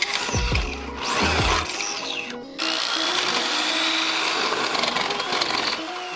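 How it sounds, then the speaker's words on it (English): A power drill bores holes while installing a Yamaha X-Brace on a Corolla XRS, the motor whining up in short bursts early on, then running steady and close for several seconds. "We're just going to be drilling the holes today"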